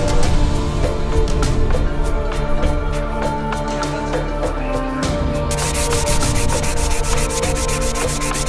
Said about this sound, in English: is scraping and sanding material in these 2 areas